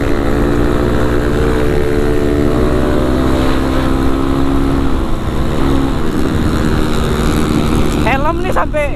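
Kawasaki KLX 450 supermoto motorcycle accelerating on a road, a loud steady engine drone mixed with heavy wind rush, a rider's voice talking over it.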